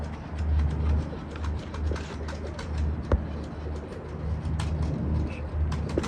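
Low, steady cooing of pigeons runs throughout, a soft repeating drone with scattered faint chirps and rustles over it, fairly close.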